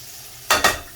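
Garlic hits a hot pan beside seared scallops, giving two quick close bursts of sizzle before settling to a low hiss.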